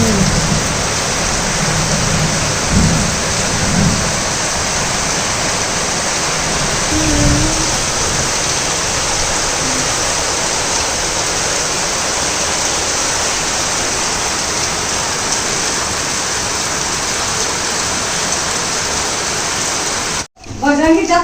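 Heavy rain falls steadily and loudly during a thunderstorm in the evening, a dense continuous hiss throughout, with a voice briefly heard early on and a sudden cut near the end.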